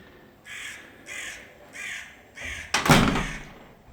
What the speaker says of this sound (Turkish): Bu arada kargada çekimin sesini bozuyor.